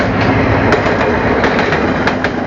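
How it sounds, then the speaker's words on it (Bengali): A train from Mymensingh Junction arriving, a loud close rush of rolling noise and engine rumble with a few sharp wheel clacks along the rails. "ফাইনালি ট্রেন এসে গেছে।"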